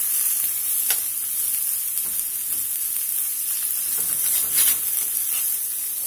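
Thinly sliced sweet Vidalia onions frying in a pat of butter in a pan, giving a steady close sizzle and hiss with a few soft stirring clicks, no talk.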